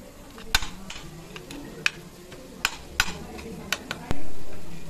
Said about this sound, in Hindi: पलट पलट कर आलू को सब्जियों के साथ भून